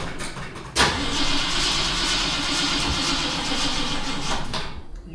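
A car engine cranks and catches with a sudden burst, then runs at a steady, fairly loud idle for about four seconds before cutting off, with no talk.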